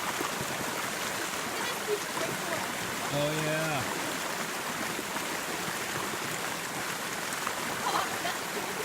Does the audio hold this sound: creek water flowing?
yes